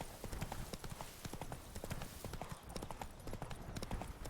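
Hooves clatter in a rapid galloping rhythm as the horse Roach runs in a video game. The pounding is steady and continuous, fairly loud and close.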